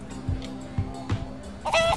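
A chicken in Minecraft Story Mode clucks in a few short, soft bursts, followed by a brighter squawk, close and clear over a low background hum.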